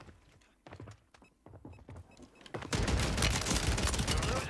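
Gunfire erupts in the Warzone video game on Rebirth Island, a few sharp thumping shots followed by a loud, sustained barrage of dense, overlapping blasts close to the listener.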